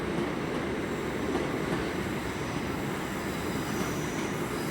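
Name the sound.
Class 800 trains at London Paddington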